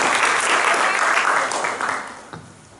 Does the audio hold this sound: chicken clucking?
no